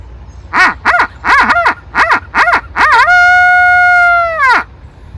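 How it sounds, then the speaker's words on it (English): A loud owl call for turkey hunting, blown close up: six short rising hoots in quick rhythm, then one long sustained wavering note that drops off at the end. "another version of the owl call"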